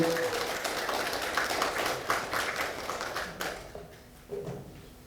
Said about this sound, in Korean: 우리 발제자 두 분을 큰 박수로